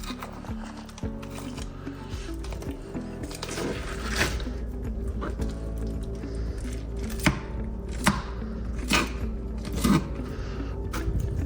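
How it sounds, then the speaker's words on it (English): Knife chopping and slicing through a northern pike fillet on a cutting surface, with repeated close, distinct cuts and scraping strokes that come in an irregular rhythm, and no talking. "this is where you're gonna work that knife across the bottom"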